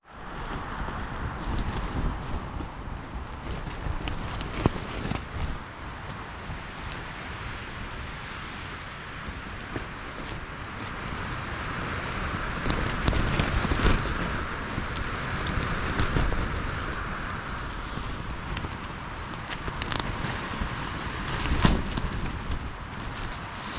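Strong wind sweeps across Vogelsang High Sierra Camp in Yosemite in a continuous roar that swells and eases in gusts, loud and close, with no one speaking.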